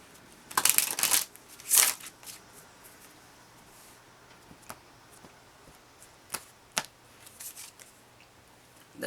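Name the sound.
shuffling Lenormand cards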